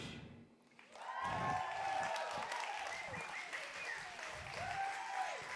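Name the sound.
applause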